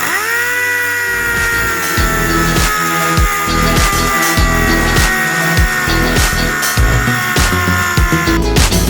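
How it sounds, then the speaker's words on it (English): Sanding out a paint run on an Alfa Romeo 159 TI car panel during accident repair, with a steady whining power sander running close and loud throughout and a rhythmic scraping pulse as it passes back and forth. "as soon as I sand it a little bit, it will become quite apparent on where the run is"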